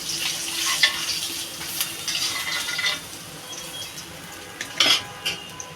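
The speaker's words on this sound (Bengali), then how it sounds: "লাল লাল করে ভেজে নিলাম মাছটা" Rohu fish fries in a pan, a continuous soft sizzle broken by scraping and clinks of a spatula against the pan, with a couple of sharper knocks near the end.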